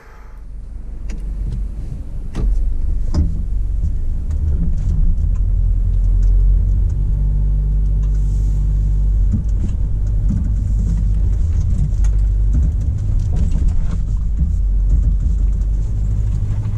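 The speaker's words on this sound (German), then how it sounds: "jetzt einfach mit dem Sandprogramm, also maximale Geschwindigkeit, ne, also wie man das im Sand so braucht, ein bisschen Schwung und dann gräbt er sich da hoch" A Land Rover Defender in sand mode climbs a sandy slope, its engine a loud, continuous low rumble that surges and holds high revs throughout, close by and alone.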